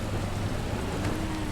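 Steady rain falls in the zombie video game Dying Light, a dense even hiss with a low rumble underneath, continuous and moderately loud throughout.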